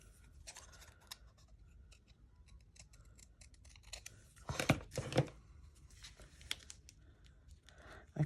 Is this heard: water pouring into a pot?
no